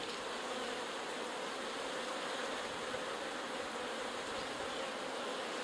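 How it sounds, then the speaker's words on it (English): Honey bees swarm around an opened hive during a honey harvest, giving a steady, dense buzz that fills the air close by without a break. "So far no stings, just a lot of buzzing,"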